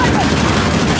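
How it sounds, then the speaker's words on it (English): A big gun firing nonstop in Uncharted: The Lost Legacy, a loud close continuous barrage of rapid shots filling the short moment. "But I want to shoot the big gun!"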